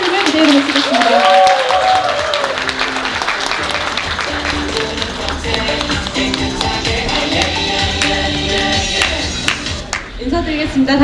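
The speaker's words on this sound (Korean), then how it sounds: "큰 박수 부탁드리겠습니다" Audience applause and cheering fill a hotel seminar hall as a speaker is welcomed onto the stage, a dense, steady clapping that carries through the whole stretch alongside voices and some music.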